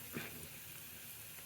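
A tempering of cumin, mustard seeds and dried chillies sizzles in hot oil, a faint, steady crackling hiss that is brief and close by.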